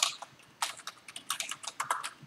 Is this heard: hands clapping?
no